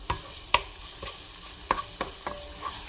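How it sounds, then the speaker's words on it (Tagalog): Garlic frying in melted butter while prawns with bagoong are cooked: a soft steady sizzle broken by a few sharp clicks of a utensil stirring in the pan, close by and with no voices. "Namemelt na ang butter, ilalagay ko na tong aking bawang. Ayan na. Para medyo toasted yung bawang."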